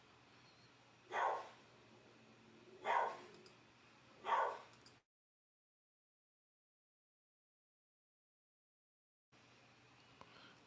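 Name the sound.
dog barking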